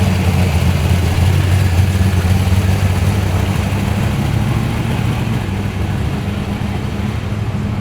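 A muscle car's engine idles at a car show, a loud, steady low rumble that holds evenly throughout with no speech over it.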